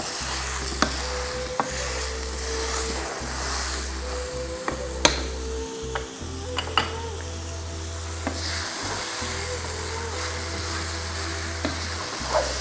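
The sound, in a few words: mince being mashed and browned in a frying pan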